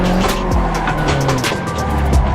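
Drifting car in Assetto Corsa, a 240 thrown sideways, its engine droning loudly while tires squeal in repeated bursts.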